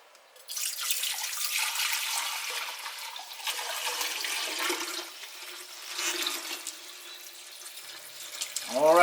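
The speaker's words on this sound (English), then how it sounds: "now I'm going to take the bowl here and carefully pour off the electrolyte into this beaker" Electrolyte liquid poured steadily from a bowl into a beaker, a continuous splashing, trickling pour close up that lasts most of the stretch, with a brief clink or squeak at the end.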